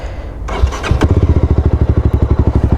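A Mahindra Mojo motorcycle starts after a starter whirr and a thump, then settles into a loud, close, even idle with a steady rhythmic thump, no talk over it.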